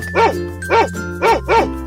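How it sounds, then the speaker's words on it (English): A cartoon dog barks four times in two quick pairs, loud and close, each bark a short bright woof over a steady low musical bed. "Dog."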